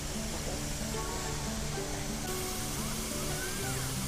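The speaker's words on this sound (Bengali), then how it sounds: "মিস্ট মানে কুয়াশার মতো করে জলগুলো পড়ছে, লোককে ঠান্ডা করে দিচ্ছে" Mist garden sprayers at Eco Park send out water like fog, a steady, even hiss and rush of spray with faint voices in the background.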